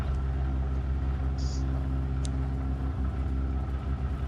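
A rally car in a racing video game sits stuck with its engine rumbling at a steady, low, droning idle. The sound is constant and fairly loud, and one brief high click is heard near the middle.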